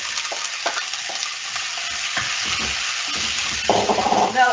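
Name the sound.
onion, celery and carrot sizzling in hot oil in a pan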